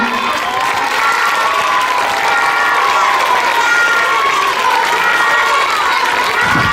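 Children at a sixth-grade farewell school event applaud and cheer, a loud continuous roar of clapping mixed with high shouting voices, steady throughout.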